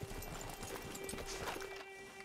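Rhythmic clip-clop of horse hooves in Red Dead Redemption 2, a steady trot close by over a faint ambient hum, with no talking.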